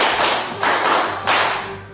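A few sharp hand claps ring out over a steady low hum, spaced roughly every half second and fairly close.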